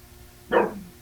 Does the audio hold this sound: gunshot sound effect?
no